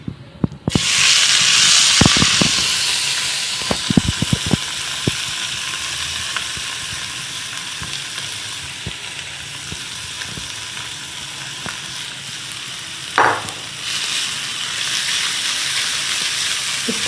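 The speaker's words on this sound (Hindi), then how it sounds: "ये देखिए अब मैं इसको फ्राई कर रही हूँ।" Chicken patties fry in a pan with a loud, continuous close sizzle and crackle, broken by sharp spatula taps and scrapes early on and a brief clink near the end, no voices.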